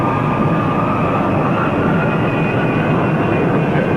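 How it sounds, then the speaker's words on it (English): Steady, loud aircraft engine drone with a constant hum and rushing wind noise, holding evenly throughout as a plane rolls along the ground. "A little bit, yeah, let me taxi it out."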